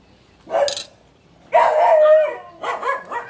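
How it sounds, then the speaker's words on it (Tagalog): Dogs bark in the background while someone snacks indoors, one short bark, then a longer run of loud overlapping barks and yips, quite close and dominant. "aso ko guys. Yung kahol nila."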